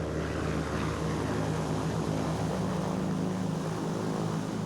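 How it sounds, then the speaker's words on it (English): A private propeller plane in flight gives a steady, continuous engine drone, loud and even throughout with no breaks and no voices. "Hitler crisscrosses Germany in a private plane during the first modern electoral campaign."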